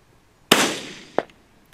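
A single sharp, loud rifle report from a 17 Hornady Hornet firing 25-grain hollow-point ammunition outdoors, its long ringing tail fading over half a second, then a brief fainter crack shortly after.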